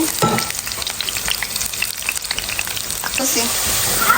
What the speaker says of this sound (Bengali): আর এখানে বিটরুট ভাজির জন্য রসুন বসাই দিচ্ছি। তো এটা রসুন দিয়ে বাগার দিব।